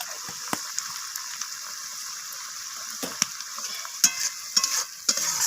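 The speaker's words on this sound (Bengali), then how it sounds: "তো আবারও নাড়াচাড়া করে আমি মশলাটাকে রান্না করে নিচ্ছি" Tomato-based masala for a rohu fish curry being stirred and cooked in a pan, with a steady soft sizzle and a series of sharp spoon scrapes and taps that grow more frequent toward the end.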